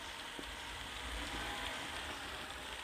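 Rain falls in a mobile bus simulator game set on Indian roads, a faint, even hiss of patter that stays low and uniform throughout, with no voices.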